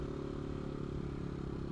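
A CCM Maverick motorcycle engine runs steadily up close, a loud, continuous rough thrum with dense harmonic throb and no voices over it.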